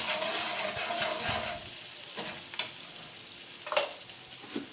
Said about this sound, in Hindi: इसमें हम ये लहसुन अदरक की पेस्ट 1 टेबलस्पून हम ये डाल देंगे। इसको थोड़ी देर फ्राई करेंगे 1 मिनट के लिए।